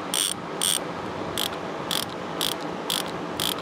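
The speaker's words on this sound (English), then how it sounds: "This is a 24 tooth ratchet." A vintage Plumb 5249 (Proto) 24-tooth ratchet clicks in seven evenly spaced bursts of sharp metallic ticks. The sound is close, loud and alone over faint background hiss.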